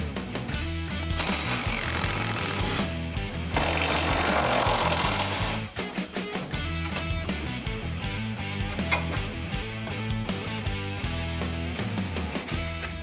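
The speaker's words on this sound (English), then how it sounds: "First thing we need to do, remove the shocks." A pneumatic impact tool rattles in long, loud bursts while the shocks are removed from a stock 2020 Ford F-150 XLT pickup, with short pauses and metallic clatter between runs in a garage setting.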